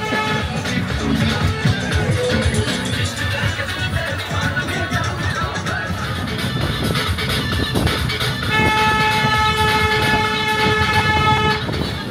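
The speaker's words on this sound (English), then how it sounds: "As soon as I saw this train going seemingly too fast, honking its horn" A small train in Varanasi rumbles past at speed, its rattling wheels loud and close, with a long sustained toot of its horn sounding near the end.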